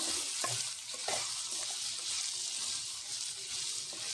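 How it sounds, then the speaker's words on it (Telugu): Snake gourd curry is stirred in a pan after chili powder and coriander powder go in, producing a constant sizzle broken by several scraping strokes of a spoon, close up with no speech. "అవసరానికి సరిపడా అంత కారాన్ని అయితే యాడ్ చేసుకొని మంచిగా మిక్స్ అయితే చేసుకోవాలి"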